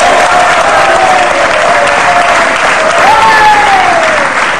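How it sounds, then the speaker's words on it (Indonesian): Studio audience applause on an Indonesian TV talk show, loud, dense and sustained clapping from a crowd that carries on throughout without pause. "Masa tadi tepuk tangan kelewatan?"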